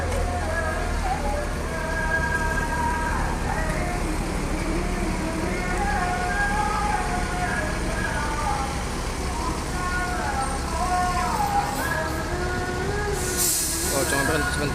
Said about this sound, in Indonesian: kita lepas nih keberangkatan bus Makmur ini jam 6